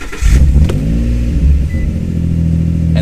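A Nissan 350Z / Infiniti G35 engine cranks and catches with a loud burst, revs briefly, then settles into a steady low idle after a mass air flow sensor cleaning and ECU reset.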